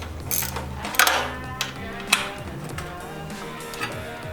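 Bolts are tightened on the torque converter of a rally kart with a Predator engine, giving close clicking ratchet and metallic mechanical sounds in an uneven rhythm over a steady low hum.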